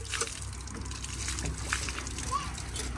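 Water gushing and splashing from a village hand pump in rural Nepal, a steady rushing spatter with people talking over it.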